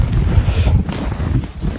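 Strong gusts of wind buffet the microphone with a loud, low rumble, continuous and close, with no talking.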